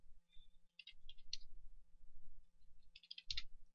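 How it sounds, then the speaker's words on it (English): Keys on a computer keyboard click in short, uneven bursts of taps with pauses between them, close and fairly quiet, with no voices. "having a hard time typing today"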